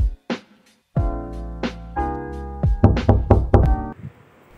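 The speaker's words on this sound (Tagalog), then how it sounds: "May kumakatok na naman." Knocking on a door in a Filipino animation: several sharp knocks in short bursts, loud and close, with a sustained musical tone underneath and a brief quieter pause before the knocks resume.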